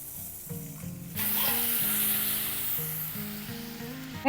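Pointed gourd (potol) frying with panch phoron spices in a pan gives a steady, close sizzle that swells louder after the first second and holds, with soft background tones underneath.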